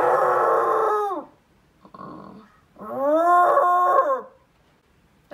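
A person imitates a lion with a long, loud, wavering vocal roar, a brief rough grunt, then a second sustained roar that slides down in pitch at the end.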